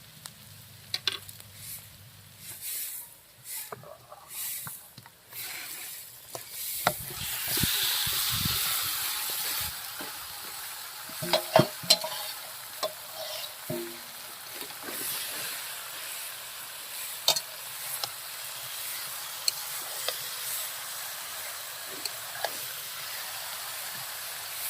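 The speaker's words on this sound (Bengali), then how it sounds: "এবার আমি দিয়ে দেবো মাংস।" Chicken pieces hit a pan of already-fried chopped onions, bursting into a loud sizzle after an initial quiet stretch, then crackling steadily with scraping stir strokes and occasional spits throughout.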